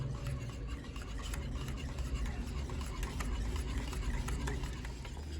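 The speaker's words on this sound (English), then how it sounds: "I've been whisking this thing away now for over 5 minutes" A butter beer mixture being whisked by hand: a steady, busy scraping and swishing that continues without a break, with faint speech in the background.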